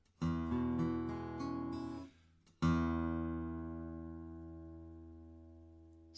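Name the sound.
Schoenberg OM-45 Deluxe acoustic guitar being played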